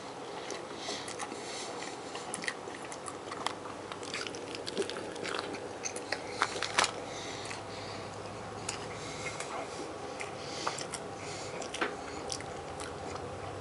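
Close biting and chewing of a Burger King Steakhouse King burger, with steady wet crunching and mastication continuing throughout and no talking.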